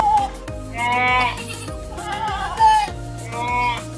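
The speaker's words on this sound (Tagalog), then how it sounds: "Ayan ang mga kambing natin." Several goats bleat in close succession, loud, wavering cries overlapping in a short burst on a Philippine farm where stingless bee colonies are split.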